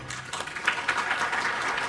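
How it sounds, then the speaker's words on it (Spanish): A short burst of audience applause at an academic cardiology conference session, dense steady clapping at moderate volume. "para el que pido un aplauso"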